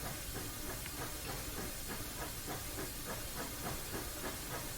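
Steam locomotive in Train Simulator Classic on the Rio Grande Southern route, blowing off steam as a steady loud hiss with a faint rhythmic clickety-clack of wheels running underneath.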